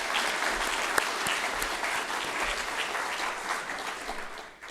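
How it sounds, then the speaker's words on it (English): Steady, full applause from an audience at an awards ceremony, a dense wash of many hands clapping that holds for several seconds before tapering off at the end. "So if we can give them a round of applause"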